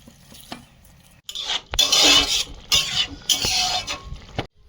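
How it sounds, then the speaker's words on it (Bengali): Loitta fish paste is worked by hand with gram flour in a bowl, giving close, wet squelching and slapping bursts in a steady rhythm after a quieter start, with no talking. "ভালোভাবে মাখিয়ে নেব মাখিয়ে নিয়েছি"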